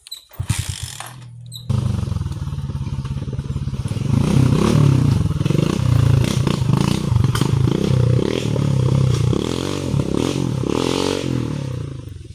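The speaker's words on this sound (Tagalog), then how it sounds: "May motor." A motorcycle rides along a rough, muddy rural road, its engine droning steadily close by with rattles and bumps over uneven ground.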